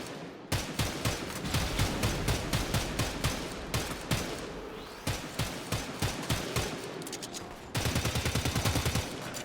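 Rapid semi-automatic shots from the Stradavar rifle in Warframe crack out in evenly spaced, loud bursts, briefly pausing before a tighter, faster string of shots.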